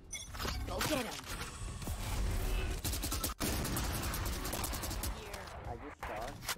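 Gunfire from the video game Valorant, dense overlapping rapid shots and bursts running almost continuously throughout, loud and close, with brief gaps, mixed with game effects and a voice talking over it.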